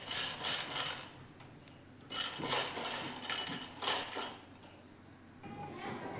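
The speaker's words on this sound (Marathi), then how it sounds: "बघा 2-3 मिनिटं ना आपण चांगले हलवत ना व्यवस्थित सगळीकडून भाजून घ्यायचे" Roasted chana being stirred in a hot kadhai, making repeated bursts of scraping and clinking as the chickpeas are tossed around the pan, with short pauses between strokes.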